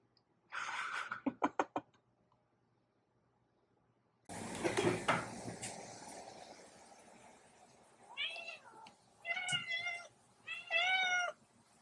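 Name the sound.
cats meowing excitedly at an opened can of olives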